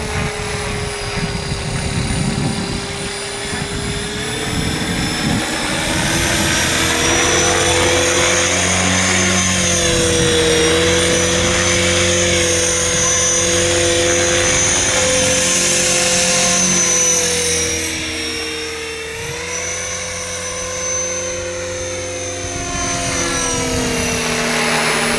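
An Align Trex 500X belt-drive RC helicopter flies steadily, its loud whirring rotor and motor whine rising and falling in pitch as the throttle shifts, continuous throughout with no talk.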